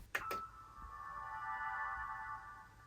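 An Xbox Series X Halo Infinite special edition console powering on: a short click is followed by a clear, steady electronic chime tone that rings for a couple of seconds at moderate level and fades gently.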